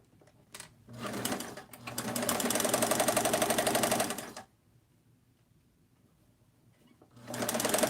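Side seams are stitched on a sewing machine in two bursts of fast, even mechanical whirring and clatter, the first running about three seconds, then a quiet pause before the motor starts again, close by with no talk.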